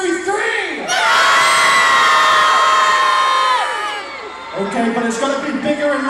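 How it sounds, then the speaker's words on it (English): A big outdoor crowd at a Belfast Christmas light switch-on lets out a long, loud simultaneous boo mixed with whoops and shouts. It swells, holds for a few seconds, then fades into scattered crowd noise. "we could break a world record in Belfast tonight for the largest, biggest, simultaneous booing"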